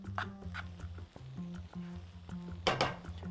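A spoon stirring a street food mixture sprinkled with coconut in a pan, giving close, quiet repeated scrapes and clinks against the metal in an irregular rhythm.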